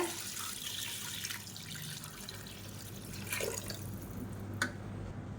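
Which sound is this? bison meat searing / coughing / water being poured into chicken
water being poured into chicken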